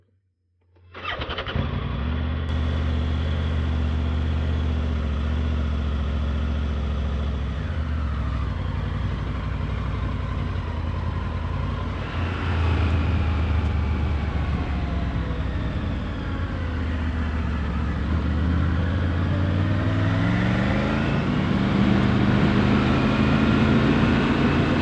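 Triumph Tiger 900 Rally Pro adventure motorcycle riding off-road through forest, a loud, continuous engine drone starting up and holding steady, rising in pitch toward the end as it accelerates, close with no talking.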